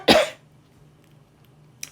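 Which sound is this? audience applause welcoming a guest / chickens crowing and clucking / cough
cough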